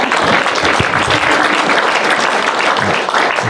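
Steady audience applause fills the room in a continuous, moderately loud burst of many hands clapping at once, with no talking over it.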